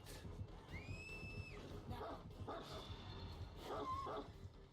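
A Houndmaster's dog in the video game Dead by Daylight yips and whimpers a few times over busy game noise, with a shrill whistling tone near the start.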